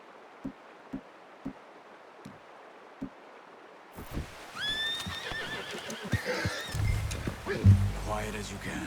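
A horse in Red Dead Redemption 2 gives a loud, wavering whinny midway through, after a run of soft, evenly spaced footfalls; snorts and outdoor rustle follow.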